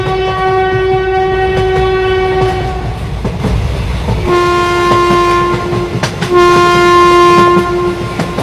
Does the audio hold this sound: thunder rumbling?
no